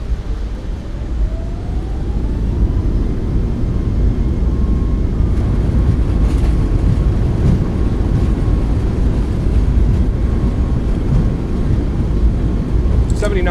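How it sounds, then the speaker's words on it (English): Boeing 737 MAX 8 thrust reversers roaring during a landing rollout in a flight simulator, a loud, steady, broadband rumble that holds throughout with a faint rising tone early on. "Nose down gently, reversers are out,"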